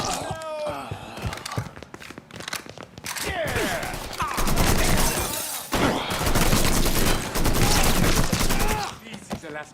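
Gunfire in the crime action game Mafia 3: Definitive Edition, dense volleys and bursts crackling close and loud for most of the stretch, with voices talking over and between the shots.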